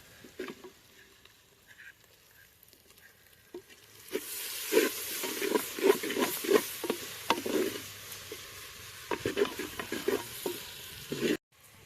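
Chopped tomatoes sizzle and fry in a pan for a village-style greens kuzhambu, a steady crackle broken by repeated stirring scrapes and clatters, fairly close, with no talking.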